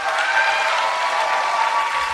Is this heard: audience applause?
yes